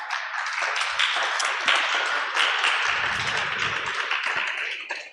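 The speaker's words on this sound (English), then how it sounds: "Can you please give them a round of applause?" A town hall audience applauds the staff standing before them, a broad wash of clapping that holds steady for several seconds and thins toward the end, with no talk over it.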